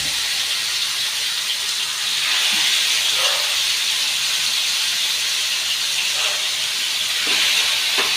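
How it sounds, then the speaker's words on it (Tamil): Marinated Iffa chicken sizzles in hot oil over a low flame, giving a continuous, even hiss that stays loud and steady throughout with no talking over it. "ஆயில் நல்லா இப்போ நம்மளுக்கு ஹீட் ஆகிடுச்சு. இப்போ நம்ம மேரினேட் பண்ணி வச்ச சிக்கன் போட்டுக்கலாம்."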